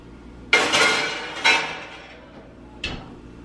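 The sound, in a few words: pan being put into the oven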